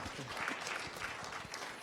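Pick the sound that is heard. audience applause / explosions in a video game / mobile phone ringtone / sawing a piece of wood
audience applause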